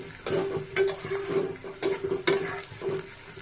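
Onion, garlic and dried fish paste frying in a home pan for shutki bhorta, a steady sizzle broken by several sharp stirring scrapes, close and fairly loud with no talk.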